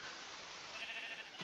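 A single faint sheep bleat from the Minecraft video game over a steady hiss of background noise, brief and distant.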